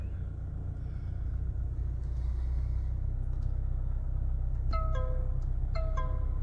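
A car pulls away uphill after its hill assist releases: a steady low engine rumble runs throughout, joined late by two short pairs of electronic chimes from inside the cabin.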